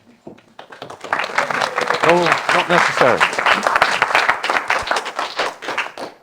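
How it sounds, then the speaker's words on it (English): An audience at a talk bursts into loud, sustained applause, a dense wash of clapping that swells after a quiet start and carries on throughout, while someone speaks briefly over it. "Don't clap until you see the content today."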